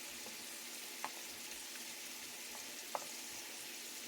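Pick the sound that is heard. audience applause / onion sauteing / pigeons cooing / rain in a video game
onion sauteing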